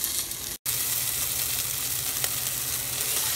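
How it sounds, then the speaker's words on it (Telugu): Onion and dried red chilli paste hitting tindora (ivy gourd) pieces frying in a pan gives a steady, close broadband sizzle, briefly cut by a split-second gap near the start, then continuing evenly with no voices. "ఇప్పుడు ఈ పేస్ట్ని మనం వేయించే దొండకాయ ముక్కల్లోకి వేసుకుందాం."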